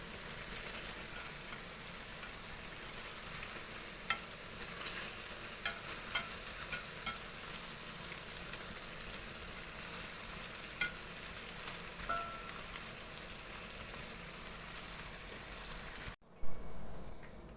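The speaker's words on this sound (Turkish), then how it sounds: "Biraz daha kızartacağım." Meat sizzles and crackles steadily in butter in a hot pan, with occasional louder pops and a stir near the end before it cuts off.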